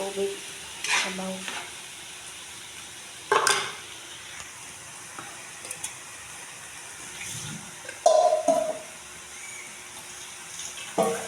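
Water is poured into a pan of ground pork or beef frying on a home stove, producing a steady background sizzle, bursts of splashing and stirring, and a brief louder gush near the end, with no voices.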